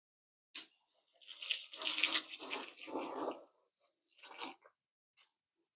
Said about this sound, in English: we water down the moss. We spray the box a bit